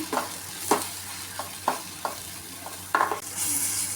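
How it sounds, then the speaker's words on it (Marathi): Ground spices, including homemade masala, turmeric and cumin powder, are stir-fried in a pan for a dried fish curry, with distinct scraping stirring strokes over a soft sizzle that turns louder at the end. "मसाले व्यवस्थित परतून घेऊया"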